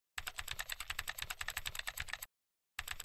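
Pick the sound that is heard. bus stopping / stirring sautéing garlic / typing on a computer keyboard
typing on a computer keyboard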